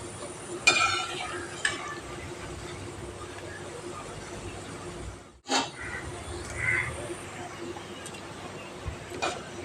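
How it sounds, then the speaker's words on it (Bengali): Hand-made salted jhuri dough frying slowly in oil over a medium flame and being turned, with a low, faint sizzle, a few spatula knocks and a brief break midway. "মিডিয়াম ফ্লেমে আস্তে আস্তে ভেজে নিতে হবে।"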